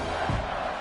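Stadium crowd noise in a college football video game at third and goal, a dense continuous roar of cheering and yelling that stays level throughout, without clear talk over it.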